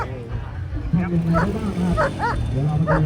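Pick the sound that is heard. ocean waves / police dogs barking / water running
police dogs barking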